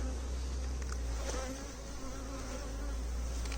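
A bee buzzes steadily and close over a low background hum, its drone wavering slightly in pitch throughout, with no voices.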